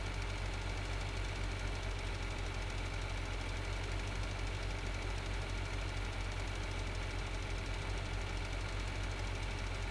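Tractor engine in the video game Farming Simulator 2013, a steady, dense mechanical drone with a knocking undertone that runs unbroken and evenly loud throughout, with no talking.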